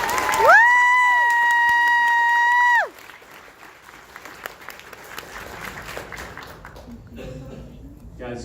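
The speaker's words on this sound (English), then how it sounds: "So please, again, a big round of applause for everybody." At an anime convention panel, a loud sustained electronic tone rings out first, then scattered audience clapping and crowd noise follow, with some voices and cheering toward the end.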